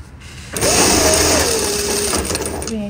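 A sewing machine runs in one steady, loud burst of stitching along a vest seam, starting after a brief quiet moment and continuing to the end.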